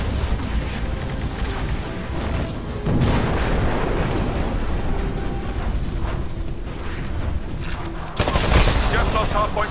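A video game battle rages with dense, continuous gunfire and booming explosions, a steady loud barrage that swells into a heavier burst near the end.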